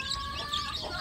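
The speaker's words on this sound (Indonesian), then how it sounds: "karena mendengar ada anak ayam yang kedinginan, yaitu suara kikik." Newly hatched village chick peeping from the cold, a thin, high, continuous cheeping heard close and alone against faint background hiss.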